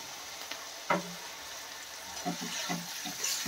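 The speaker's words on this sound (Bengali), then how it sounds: "দিয়ে দেবো সামান্য একটু জল।" Water poured into a pan of onions frying with garlic paste, bringing a brief splash and burst of sizzle, followed by a steady low hiss of frying close by with a few soft stirring clinks.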